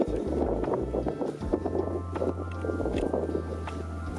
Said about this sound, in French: Je sais pas si vous entendez avec le vent ou pas.